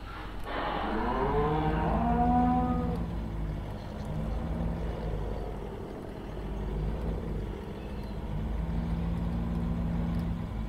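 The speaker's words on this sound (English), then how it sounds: "Here you can hear the pigs and cattle." Cattle moo in a Farming Simulator 15 farmyard, with one loud, drawn-out call near the start and quieter lowing that follows, all over a steady background hum of the game.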